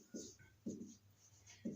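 Pen scratching on paper while a Hindi maths solution for a class 10 sector-radius problem is written out, in three short bursts of strokes close to the microphone, with no talking.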